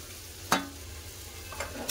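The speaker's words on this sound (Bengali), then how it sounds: "ভালো করে আলু পটলের সাথে মশলা কষে দেবো" Fried potatoes and pointed gourd being stirred with cooked-down spices in a pan, a soft sizzle with two sharp scrapes of the spatula, one near the start and another toward the end.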